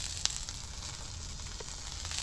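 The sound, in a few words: brinjal and tomato vegetables frying in pan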